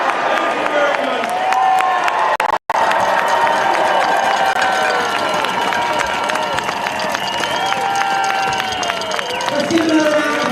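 Large crowd at the No Kings Day march in downtown Chicago cheering and applauding loudly and steadily, with dense clapping and shouting voices and a very brief dropout partway through.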